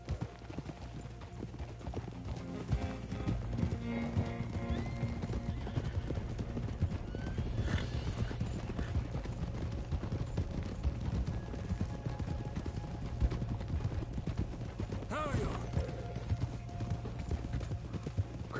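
Hooves of a thoroughbred horse clip-clop steadily at a stable on a manor in Red Dead Redemption 2, with a whinny breaking through over a busy background and no talking.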